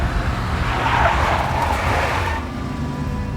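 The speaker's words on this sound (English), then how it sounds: "A big black Mercedes." Tires of a big black Mercedes skid in the Max Payne video game, a loud, steady screech over engine rumble lasting about two and a half seconds before easing off.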